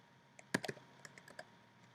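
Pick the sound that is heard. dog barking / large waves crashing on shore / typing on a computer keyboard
typing on a computer keyboard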